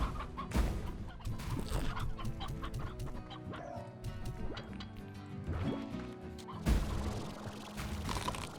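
Chickens cluck in the video game Slime Rancher, repeated soft clucks over game music and gentle liquid-like effects, with no talk.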